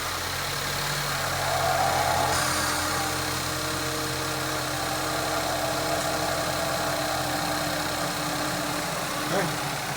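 A car engine idles steadily during an oil change, a continuous low hum running the whole time with a faint brief knock near the end, while people talk over it.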